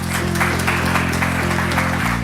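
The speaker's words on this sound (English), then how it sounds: "would you please welcome with a warm, warm round of applause, Mr. Christian Chua." Audience applause greeting a face-reading presenter as he comes on stage, a dense steady wash of clapping with a low steady hum beneath and a brief change in the final moments.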